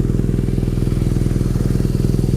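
BMW R nineT motorcycle idling in neutral, a loud, close, deep engine burble with fast, even pulsing throb and no talk over it.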